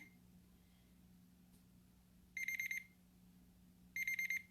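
A digital thermometer, heating milk for goat cheese, gives two bursts of rapid, high-pitched electronic beeps, each a quick cluster of pips, separated by a pause over a low background hum.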